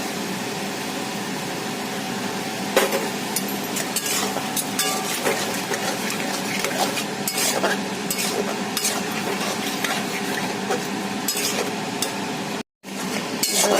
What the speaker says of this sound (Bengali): দইটা দিয়ে ভালো করে নাড়াচাড়া করে এবার গ্যাসটা সিম করে ঢেকে দিতে হবে।